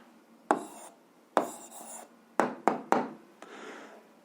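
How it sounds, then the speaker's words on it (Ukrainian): Answer written out by hand during an 8th-grade algebra exercise, a handful of short scratchy strokes in uneven bursts, close and fairly quiet, with no talking. "Записуємо відповідь, пишемо відповідь."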